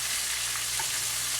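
Fish frying in a pan, a dense, steady hiss of sizzling oil close by with faint crackles, unbroken throughout.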